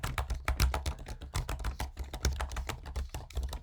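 Computer keyboard typing up close, a quick irregular run of sharp key clicks and taps continuing throughout, with no voices.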